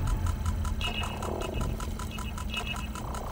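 Enemy monsters in the horror shooter game GTFO growl and snarl in low, menacing bursts with a steady droning rumble beneath, unbroken by talk.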